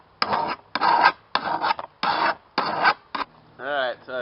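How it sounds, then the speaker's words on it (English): Hand file rasping across a lawn mower blade edge in six firm, evenly spaced strokes, close and loud, followed by a brief squeak at the end. "just lean into that grind with the file"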